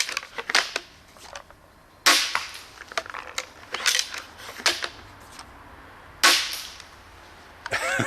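Modded repeating crossbow firing balls, with several sharp snapping shots and mechanical clacks of reloading spread irregularly across the clip, close and loud.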